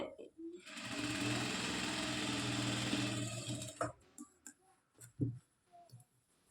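A sewing machine stitches a blouse in one steady run of about four seconds, then stops, followed by a few scattered clicks and handling taps of fabric and the machine.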